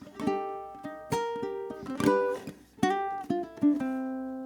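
A ukulele plays a short phrase of bright, separate notes and chord hits, each decaying quickly, quiet and close.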